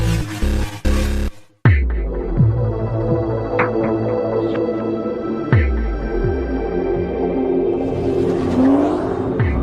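A Chevrolet Corvette Z06 sports car surges at high RPM on a test track, its engine note loud and close with repeated rising revs and gear-change dips after a brief cutoff near the start.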